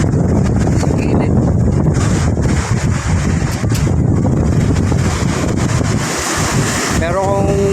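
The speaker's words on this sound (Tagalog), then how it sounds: "Lakas po ng hangin bagyo." Strong typhoon wind roars across Manila Bay, buffeting the microphone in a loud, continuous rush with waves and surf churning beneath, while someone talks over the gusts.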